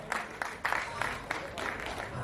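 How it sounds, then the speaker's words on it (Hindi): An audience claps steadily through the whole moment at the Hindustan Ratna Awards ceremony, the applause moderately loud and sustained under a faint hall ambience. "जोरदार तालियों की गड़गड़ाहट हो जाए दोस्तों"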